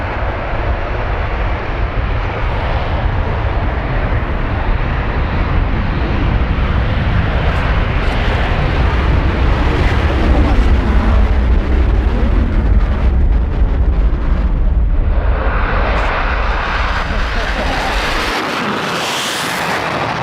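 A loud, continuous military jet engine roar with afterburner rumble, steady and close, swelling slightly before a brighter whooshing shift near the end.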